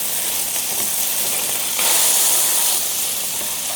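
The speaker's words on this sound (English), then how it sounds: "Sizzling the bacon." Steady, dense sizzling hiss of bacon frying in a hot nonstick skillet, loud and close, swelling briefly midway with no voices.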